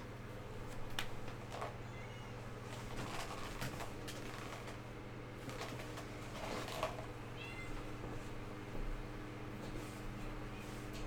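A pet cat meows in a quiet streaming room. There are several short, faint meows spread through the clip over a low, steady electrical hum.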